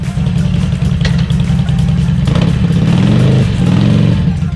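A Harley-Davidson Sportster motorcycle engine roars with a deep, continuous rumble, loud and close, its pitch rising and falling slightly as it revs, with no voices over it.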